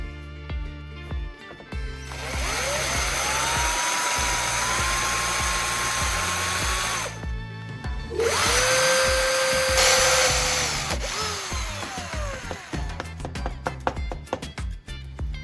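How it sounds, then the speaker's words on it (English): A small power drill whines steadily for several seconds as a small bit drills a metal bulb socket, stops briefly, then runs again at a slightly different pitch before winding down into clattering handling noises. "I hold the socket firmly and drill slowly to avoid deforming or cracking the surrounding metal"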